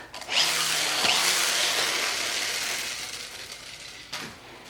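A Power Rangers Dino Stunt Bike toy whirs with a steady motor drone for several seconds, easing off and then giving a brief second rev, heard close up over carpet.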